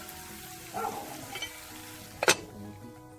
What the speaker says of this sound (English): Add in some shredded ginger into the curry